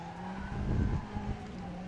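A race car brakes hard in the rFactor 2 sim, its tyres squealing over a droning engine note that swells and then eases, steady and fairly quiet with no voices.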